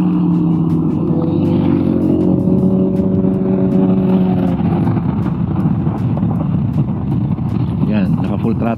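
Steady, loud riding noise from an NWOW WSP electric motorcycle held at full throttle on 100/90/12 and 110/90/12 tires, with wind rush and a faint motor whine, and the rider speaking throughout.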